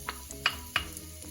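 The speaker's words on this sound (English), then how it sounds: "I have a 1/4 cup of olive oil heating up in the pot, and I'm going to add 1 medium chopped onion to it." Chopped onion sizzles quietly in hot olive oil in a pot, with three or four sharp spoon taps and stirring scrapes against the pot over a faint frying hiss.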